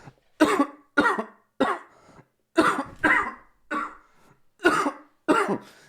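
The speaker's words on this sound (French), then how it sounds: "j'arrête pas de tousser depuis 2 jours et demi là" A man who has been sick for days coughs about nine times in loud, dry, separate bursts, close up, with short silences between them and no talking.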